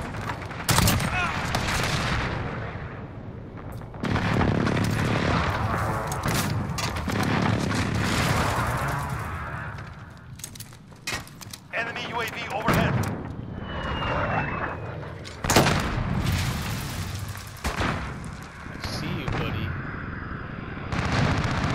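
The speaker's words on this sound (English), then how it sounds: "Enemy precision airstrike, get down." Precision airstrike explosions in the Modern Warfare video game, with heavy booming blasts, aircraft roar and gunfire crowding together, loud and close, and voices heard amid the chaos.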